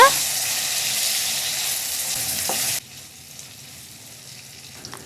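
Onions and tomato sizzle and crackle loudly in a hot pan for sambar, then the hiss abruptly drops to a quieter, gentler fizz with a few small clinks.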